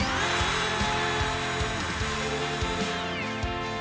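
Wood trimmer routing a drilled hole round in a wooden workbench, a continuous loud whining buzz with a steady motor hum and small rhythmic variations, close up and with no voices.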